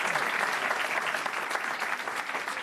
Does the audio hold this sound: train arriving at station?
no